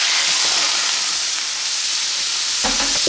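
Shrimp sautéing in avocado oil, a loud continuous close sizzle and hiss from the hot pan, with a brief clatter near the end.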